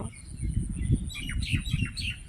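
Bright morning bird chirps and tweets in quick short bursts, several birds calling against a low rumbling background under a cloudy sky.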